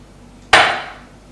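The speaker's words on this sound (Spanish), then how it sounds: "Aquí le echo el agua." Water poured onto grated coconut, rehydrating the shreds for candied coconut sweets, lands in one sudden splashing burst that fades over about a second, close and alone.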